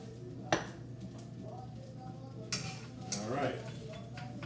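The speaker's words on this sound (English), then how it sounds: "I'm going to add a few grinds of pepper" A pepper mill grinding black pepper over a dish of seasoned beans in a home kitchen, a few quiet scratchy crunching bursts with clinks of utensils, faint and close.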